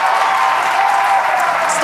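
At a Starship third flight test, a crowd applauds and cheers from behind, a steady wash of clapping and distant voices mixed with an announcer talking over it.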